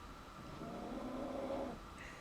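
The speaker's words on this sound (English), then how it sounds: "He's really snoring." Pet dog snoring softly, a low rumbling snore swelling and fading once in a quiet room, faint and close with no talk over it.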